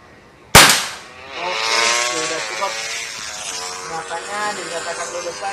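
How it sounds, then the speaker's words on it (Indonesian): A single sharp crack from a Predator Tactical PCP air rifle, loud and close, followed by a buzzing mechanical whir that lingers for several seconds. "senapan Predator Tactical"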